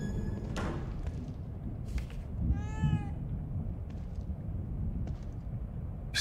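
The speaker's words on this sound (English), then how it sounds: "I don't ever remember owning a cat." A cat meows once in the survival horror game The Evil Within 2, a short rising and falling cry at moderate distance over a low ambient rumble, with a few soft thuds around it.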